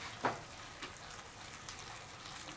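A dumpling filling of chopped radish and minced ginger is stirred in a small bowl, giving faint wet squelching and scraping with one sharper knock early on, close and quiet with no talk.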